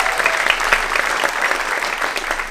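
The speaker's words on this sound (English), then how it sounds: "Yes, applaud yourself." An audience in a historic theater in Knoxville, at a seniors talent show, breaks into loud, sustained applause, a thick wash of clapping that holds evenly throughout.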